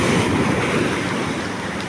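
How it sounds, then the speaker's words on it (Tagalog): Heavy ocean surf roaring continuously, with strong wind noise buffeting the microphone. "Ay, lalaki ng alon."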